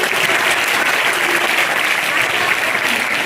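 A crowd at a girls' senior secondary school prize ceremony applauds a top-scoring student, with loud, dense, sustained clapping filling the whole stretch.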